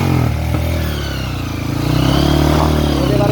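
A motorcycle rides a muddy off-road trail at Cipanengah in the rain, its engine close and loud, droning and rising in revs with clattering over the rough ground.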